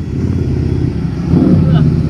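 A motorcycle rumbles past close by, its engine note swelling slightly toward the end of the short stretch while someone talks over it.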